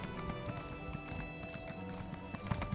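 Horse hooves clip-clop steadily in The Elder Scrolls Online, a brisk, even rhythm of close hoof strikes over game music and ambience lasting the whole stretch.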